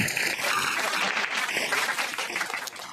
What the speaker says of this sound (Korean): 이렇게 많은 축복과 박수를 주셔서 감사드리고